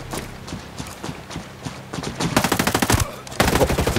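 Gunfire in the tactical shooter Ghost Recon Breakpoint: scattered single shots at first, then two loud rapid bursts of automatic fire with sharp repeated cracks, close and dominant.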